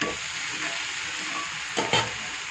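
Idli batter for a cabbage, carrot and onion uttapam sizzles softly on a pan over a low flame, a faint, steady frying hiss with a couple of slightly louder crackles.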